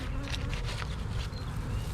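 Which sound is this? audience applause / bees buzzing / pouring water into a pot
bees buzzing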